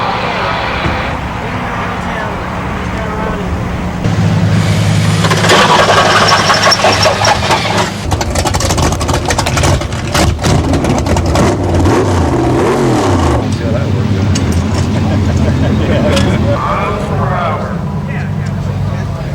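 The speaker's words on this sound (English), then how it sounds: "Here's a sample of sights and sounds from Test and Tune in the pit area." Buick race car engines idle and rev in a drag-strip pit area during test and tune, loud and continuous with surging revs, while people talk in the background.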